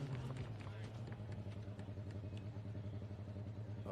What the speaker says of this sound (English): Oh, engine sounds great on that one,